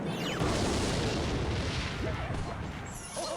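Rocket explosion in a strategy video game, a loud booming blast with rumbling debris that fills the whole moment and slowly fades, with no talk over it.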